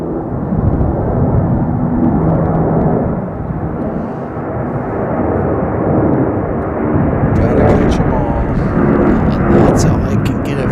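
A jet airliner roars loudly and steadily while climbing steeply after takeoff from Chicago O'Hare, its broad engine rumble filling the air as a person talks nearby.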